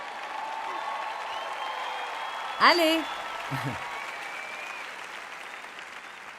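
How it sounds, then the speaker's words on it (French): An audience at a Christian teaching event applauds with sustained, even clapping throughout, and a single voice calls out over it. "vous me voyez ici maintenant, et c'est des applaudissements"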